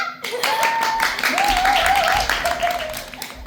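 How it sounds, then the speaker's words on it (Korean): Applause from the audience at the start of a student scholarship concert, dense clapping with a sustained tone from music or a voice running over it. "여러분의 큰 박수로 콘서트를 시작하겠습니다"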